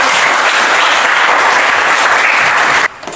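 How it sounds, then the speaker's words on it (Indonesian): Steady, dense applause from a class after a presentation on human dignity fills the room loudly for about three seconds, then cuts off abruptly. "Tepuk tangan."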